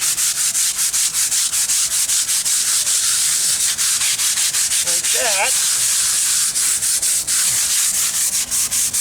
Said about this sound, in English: And usually all you need is a little scrub brush.